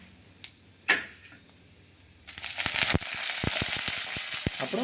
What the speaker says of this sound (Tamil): அப்புறம் அடுப்பில் சிம்மில் வச்சுட்டு கருவேப்பிலை கொஞ்சம் போட்டுக்கோங்க